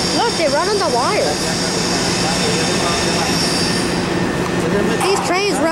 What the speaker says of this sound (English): These trains run on wires. Even this one.